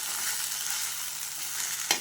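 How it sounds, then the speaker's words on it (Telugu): Okra tempered with chili powder fries in a pan while being stirred, giving a steady soft sizzle throughout and one brief sharp scrape or clatter near the end. "తాలింపు చూసారా ఎంత చక్కగా, ఎంత బాగా,"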